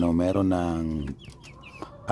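A loud, drawn-out call from young backyard roosters that breaks off, followed by softer clucks and a few faint chirps nearby.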